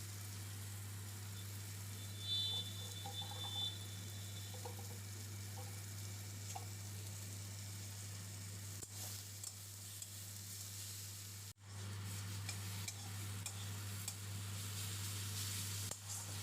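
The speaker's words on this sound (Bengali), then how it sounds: "এবার একটু ভালো করে নেড়ে নিচ্ছি হলুদ লঙ্কা গুঁড়ো দিয়ে মশলাটাকে একটু কষিয়ে নিচ্ছি" Fish masala with turmeric and chili powder sizzles steadily in a pan while being stirred, a continuous frying hiss with occasional scrapes, fairly quiet and unbroken by talk.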